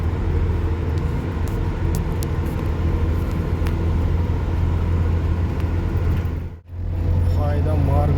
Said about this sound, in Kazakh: зуылдап жатыр машина.